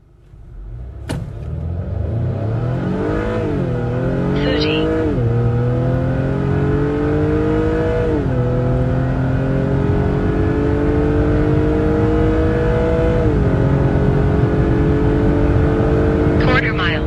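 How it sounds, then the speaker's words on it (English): Acura TL/TLX launching from a brake hold at full throttle in sport mode for a quarter-mile run: a loud, close engine roar climbing in pitch through several gear changes, each shift dropping the tone before it rises again. "hold on the brake for a split second, then let go and floor it"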